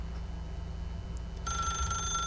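A telephone rings inside the video game The Stanley Parable, the tone starting abruptly partway through over a low background hum and continuing steadily to the end.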